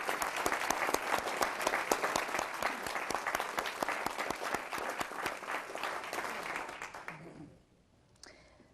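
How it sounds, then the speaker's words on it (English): An audience at a City Club talk breaks into sustained applause, dense, crisp clapping that carries strongly for about seven seconds before fading quickly to near silence. "I think that deserves a round of applause"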